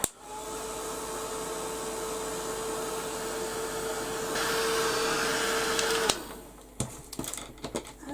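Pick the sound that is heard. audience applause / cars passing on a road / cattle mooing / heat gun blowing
heat gun blowing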